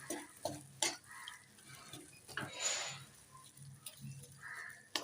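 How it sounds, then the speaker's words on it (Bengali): A filling of grated coconut, new jaggery and milk cooks slowly over low heat, giving a soft continuous sizzle broken by faint stirring scrapes and light ticks, close and quiet with no talking. "তো এখানে ধিমে আঁচে একটু সময় নিয়ে পুরটাকে তৈরি করতে হবে"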